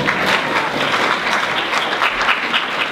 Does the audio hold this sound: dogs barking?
no